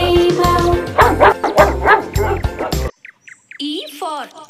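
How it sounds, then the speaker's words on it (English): Cartoon dog barks in a children's ABC song, a run of loud woofs over bouncy music, then a pause and a few yelping, squeaky barks alone near the end. "D for dog."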